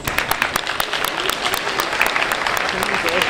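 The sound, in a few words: applause from program participants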